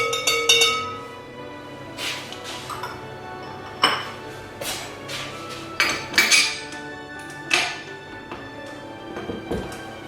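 A whisk is pulled off a stand mixer and a dough hook fitted in its place, giving a few sharp metallic clinks and knocks of parts and utensils, close and fairly clear, spaced over several seconds.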